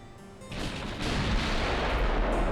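Warship guns fire a heavy, rumbling salvo in the naval battle game Ultimate Admiral Dreadnoughts, a loud sustained roar that swells and holds rather than discrete separate bangs, with no voices.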